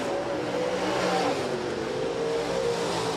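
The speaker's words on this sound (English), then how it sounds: "Heat race number 2 of 3 for the USRA Stock Cars, presented by Precision Auto Body." USRA stock cars race around Rapid Speedway in a heat race, engines roaring steadily and loudly as the pack runs together, with no speech heard.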